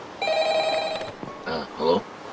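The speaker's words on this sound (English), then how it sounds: "The phone. It's ringing." A telephone in a Minecraft office rings once with a bright, close electronic trill, and then a voice speaks briefly.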